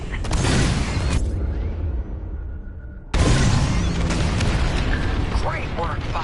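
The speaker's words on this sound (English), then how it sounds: "On my mark, it's bombs away." Bombs from a starfighter raid in the Star Wars Squadrons space combat game burst as heavy booming blasts. A loud roar cuts off briefly and then slams back in with rumbling explosions and mechanical effects layered over game audio.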